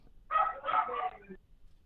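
Dogs bark in a quick, muffled burst of a few yips and barks, faint and brief, as if heard through a phone line.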